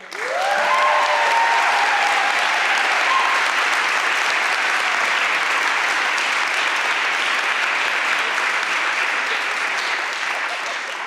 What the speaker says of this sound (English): Please applaud Amber Rose Howard.